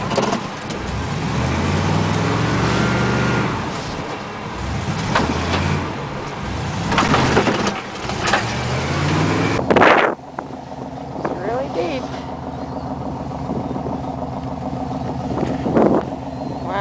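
A 1960s Fargo truck grinds through deep snow out of a yard, its engine droning and revving steadily, with people talking inside the cab over it.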